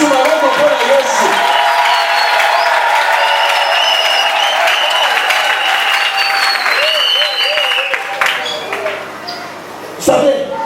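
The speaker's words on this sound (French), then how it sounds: "Ajoutez encore des acclamations" Church congregation applauding and cheering during a worship service, sustained loud clapping and crowd noise for about ten seconds, with voices mixed in before it thins out near the end.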